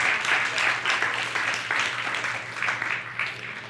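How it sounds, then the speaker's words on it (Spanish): A congregation at a Spanish-language worship service claps for the Lord, a moderately loud applause with audible individual claps that pulses in uneven waves over a low steady hum. "Yo quiero que usted le dé un aplauso al Señor"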